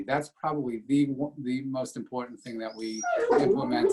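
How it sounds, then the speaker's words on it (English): A pet dog barks and whimpers with short yips and whines, mixed under someone speaking steadily close to the microphone. "Sorry, that's my dog."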